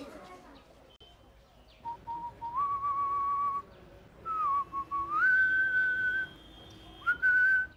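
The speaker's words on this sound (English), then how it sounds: "when I'm whistling in the house" A person whistles indoors, a clear nearby tune of sustained and gliding notes in several phrases, with a voice briefly heard underneath.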